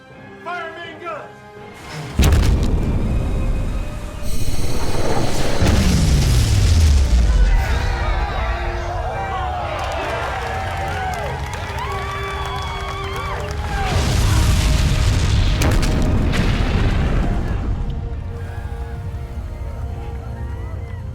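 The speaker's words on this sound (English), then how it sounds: "Target that ship! Fire main guns!" Warship main guns fire in a sci-fi action movie battle, with heavy booms and explosions rumbling under shouted voices and a dense, chaotic soundtrack, loud throughout.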